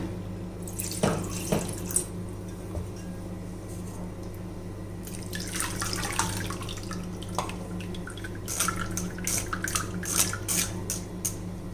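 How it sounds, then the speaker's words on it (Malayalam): Water runs and splashes from a tap into a blender jar, with a gurgling, dripping flow that stops and starts, close and steady, no talking. "കുറച്ച് വെള്ളം കൂടി ഒഴിച്ചു കൊടുക്കാം."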